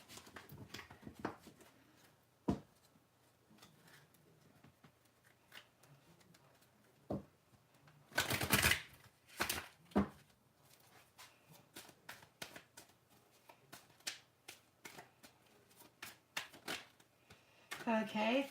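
Tarot cards are shuffled by hand in quick, soft riffling bursts and taps, close and quiet, with one louder flurry partway through and scattered light clicks between.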